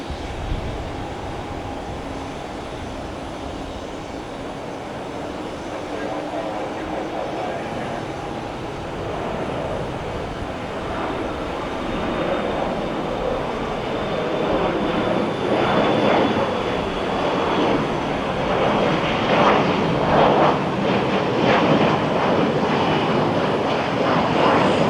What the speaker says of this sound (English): It's the Republic Airways house livery heading to LaGuardia.